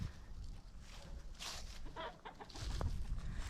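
Chickens on a homestead cluck in short bursts near an electric fence, faint and somewhat distant against low outdoor background rumble.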